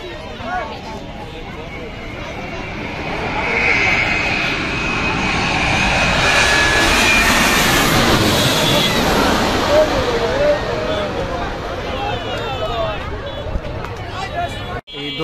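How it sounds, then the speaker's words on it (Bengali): An Egypt Air Boeing 787 Dreamliner on approach to land at Dhaka airport swells into a deep roaring jet rumble that peaks mid-way and then fades, with a watching crowd's murmur and voices underneath. "দেখতে পাচ্ছেন এগিয়ে আসছে ড্রিম লাইনার"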